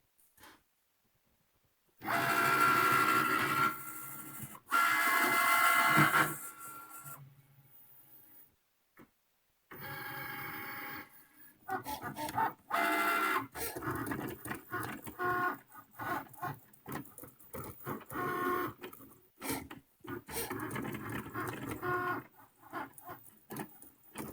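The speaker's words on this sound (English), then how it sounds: "so the machine is going to cut over that blue tape" A cutting machine cuts heat transfer vinyl on faux leather, passing over blue painter's tape. Close, whirring motor bursts and mechanical buzzing start and stop repeatedly, separated by short pauses and near-silent gaps.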